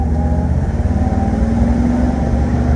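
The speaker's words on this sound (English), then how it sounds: "You hear that transmission? Making that gear engagement sound." A low engine rumble from inside a moving 1963 Ford F250 truck, with a steady mechanical hum and faint transmission gear-engagement whine, continuous and fairly close, no voices.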